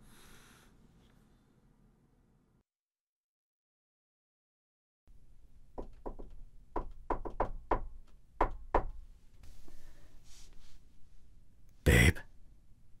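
Knuckles rap on a door in a quick irregular burst of about eight knocks, loud and close, after a stretch of near silence, followed by a single louder thud.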